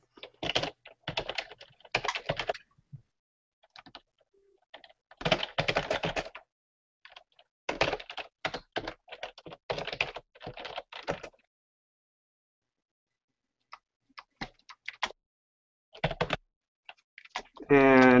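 Typing a headline on a computer keyboard, bursts of rapid close key clicks separated by pauses, recorded alone without speech.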